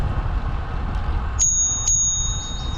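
A bicycle bell on a city path rings twice in quick succession, bright metallic dings that linger briefly, over a low outdoor background rumble.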